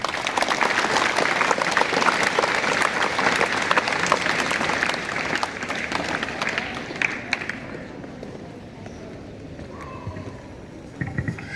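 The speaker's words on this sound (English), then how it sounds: "I think they deserve a huge round of applause." An audience at a Republic Day school celebration breaks into a long burst of dense applause that fades into scattered claps toward the end.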